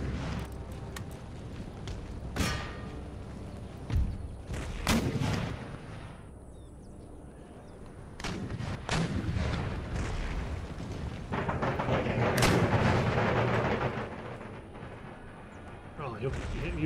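Shrapnel shot artillery fire in the strategy game Empire: Total War, with several loud booming volleys and bursts spread across the scene amid continuous battle noise, with a voice talking over it.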